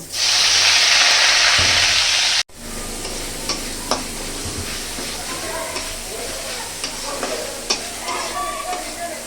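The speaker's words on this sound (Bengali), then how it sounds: "তেলটা গরম হয়ে আসছে পেঁয়াজগুলো দিয়ে দিব" A loud burst of sizzling as onions hit hot oil, cutting off abruptly, followed by quieter frying with clinks and distant voices.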